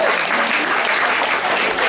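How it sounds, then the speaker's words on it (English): Steady, dense applause from a crowd, loud and continuous throughout with no voices standing out. "Nah, he's a legend, so big clap for Michael Dunstan"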